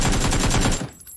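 Rapid automatic gunfire in a shooting video game, a dense rattling burst of shots that cuts off abruptly, followed by a short quiet tail.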